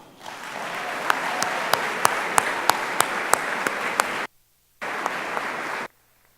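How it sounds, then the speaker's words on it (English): Audience at an athletic awards banquet applauding, a dense sustained wash of clapping with a few sharp individual claps standing out, breaking off briefly and resuming before stopping. "please join me in giving Coach Boyle a round of applause"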